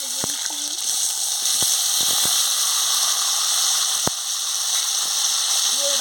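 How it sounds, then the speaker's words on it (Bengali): Potatoes and pointed gourd frying in hot oil in a pan on a lit stove, a steady bright sizzle filling the clip with a few sharp spatters and some faint voice underneath. "ভালো করে ভেজে নিচ্ছি"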